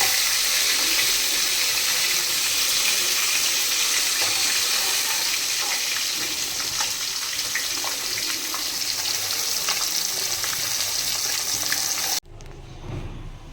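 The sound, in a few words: rohu fish frying in oil in a wok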